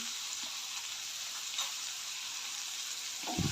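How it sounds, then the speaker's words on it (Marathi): Onion and tomato sautéing in a pan for bhindi bhaji give a soft, steady sizzle, with a brief clatter near the end and no voices. "टोमॅटो चांगला परतून घेऊया सॉफ्ट होईपर्यंत परतून घ्यायचं आहे"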